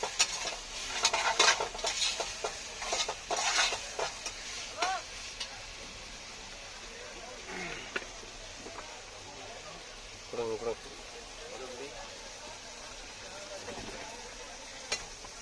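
Onion, green chili, ginger garlic paste and tomato sizzle in a pan while a spoon scrapes and clinks against the metal in irregular stirring bursts, with someone talking over the cooking throughout.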